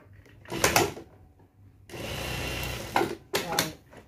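Industrial sewing machine back-tacking to lock the stitching at a trouser pocket opening, running in short bursts of a second or so with brief pauses between.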